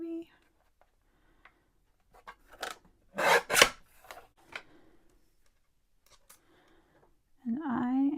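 Paper being cut with scissors gives a cluster of quick crisp snips in the middle of the clip, close and clear, with a voice speaking briefly at the start and end.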